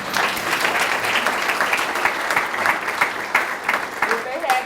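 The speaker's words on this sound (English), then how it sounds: "Give him a round of applause." An audience at a Martin Luther King Jr. breakfast claps for a participant, a dense crackle of many hands with individual claps popping out, as a voice speaks faintly beneath.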